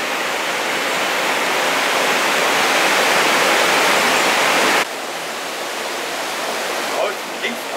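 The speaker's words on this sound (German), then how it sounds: "Wasserfall." A waterfall seen from a bridge on a summer bicycle tour gives a loud, steady, broadband roar. It drops a little in level partway through, with a few faint knocks near the end.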